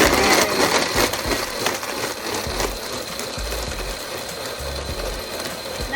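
A blender grinding crushed ice for a nonalcoholic piña colada, a loud rattling, churning mechanical whir with irregular clattering of ice against the jar, running steadily throughout.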